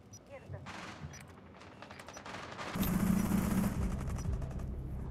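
Automatic gunfire rattles in Rainbow Six Siege as Oryx's team is shot at through windows, a dense burst swelling louder midway under background talk.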